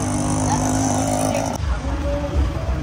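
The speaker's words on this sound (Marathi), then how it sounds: "ट्रॅफिक एवढी फुल आहे" Road traffic with cars passing on a crowded approach road to a hilltop temple, a steady loud engine rumble with a vehicle sweeping past and a brief horn-like tone, no talk.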